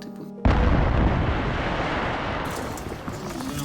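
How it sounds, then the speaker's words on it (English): A sudden loud explosion in a yard in Ukraine during the war, a deep booming blast that hits at once and rolls on in a heavy rumbling roar and debris noise for several seconds. "There was an explosion right in the yard."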